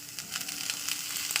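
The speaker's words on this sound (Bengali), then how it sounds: "এর উপরে এবার দিয়ে দেবো আলু টুকরোটাকে," Potato pieces frying in hot oil give off a continuous sizzle, dotted with small crackles and pops, moderately quiet and heard alone.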